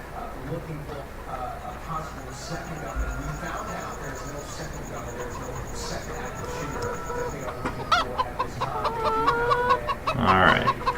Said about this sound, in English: I can hear the chickens in the background.